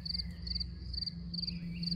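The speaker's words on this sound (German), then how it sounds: "Das Konzert der Grillen ist atemberaubend schön und es passt zu dieser Landschaft." Crickets chirp steadily in a freshly mown meadow on a hiking trail in the Odenwald, Germany, a dense high trilling in repeated pulses over a constant low hum, with no voices.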